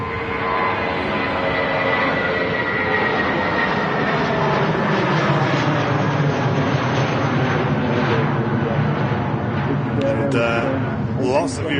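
Airbus A380 on its takeoff roll on a wet runway at Manchester Airport, a loud sustained jet engine roar with shifting tones, heard from a distance with people talking over it.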